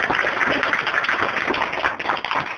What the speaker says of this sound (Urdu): زوردار تالیاں خدا کے کلام کے لیے